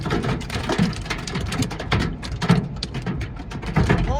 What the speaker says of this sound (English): And that hail's big.